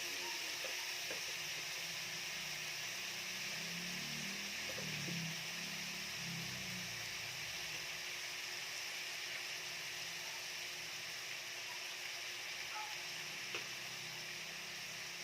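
Ground pork stirred in a hot pan, a steady broad sizzle and hiss running throughout at moderate level, with faint scraping of the stirring utensil and no talking.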